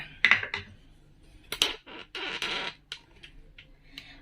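Onions are cut with a knife in a home kitchen, giving irregular close chops and taps spaced across a few seconds, with quiet gaps between them.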